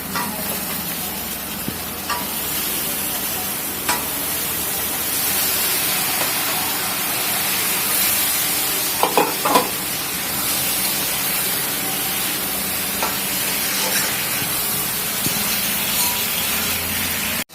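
Half-boiled potatoes frying in spiced oil and being stirred in a home kitchen, with a steady hissing sizzle and occasional clinks and scrapes of the spoon.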